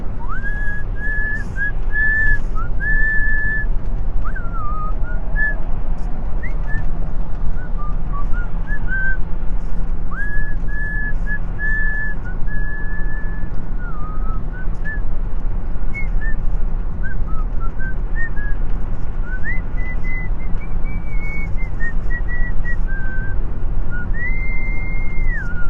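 A person whistles a tune in clear, sustained notes with short pauses, over a steady low background hum.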